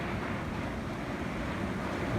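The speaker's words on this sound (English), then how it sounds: "Here we are letting the water out of the tyres" Water squirts from the tyres of a Chamberlain C-6100 tractor. It makes a steady, loud, broadband rushing and hissing, continuous for the whole stretch with some wind-like noise and no talking.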